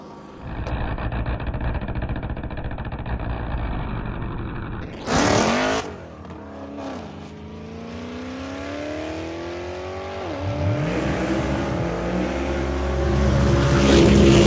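A 900hp Chevrolet C8 Corvette pulls away and accelerates hard, its engine note climbing through rising gear sweeps, cutting briefly between shifts, then building louder again near the microphone.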